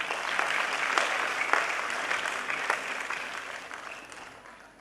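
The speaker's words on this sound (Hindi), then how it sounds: "एक बार इनके ताली बजाएं।" Audience at an award ceremony claps together, a dense crowd applause with a few sharper individual claps standing out, swelling early and then gradually tapering off over several seconds.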